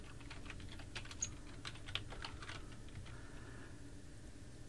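Typing on a Windows 11 computer keyboard while entering a search, a quick run of light key clicks with a few slightly louder taps, close and alone.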